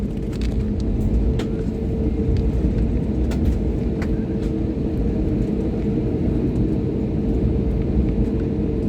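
Inside an airplane cabin before takeoff, a steady low engine rumble and hum fills the space, with faint scattered clicks and cabin sounds over it.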